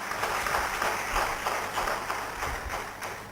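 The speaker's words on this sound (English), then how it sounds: "please have a huge round of applause for Dr." Scattered applause from a conference audience after a speaker is introduced, a dense patter of many hands at steady moderate loudness throughout, with no talk over it.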